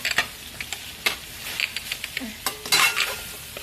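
Beef and ginger stir-fry in a hot pan, a steady sizzle broken by the scrape and clatter of a utensil stirring against the metal, close and fairly loud, with no talk.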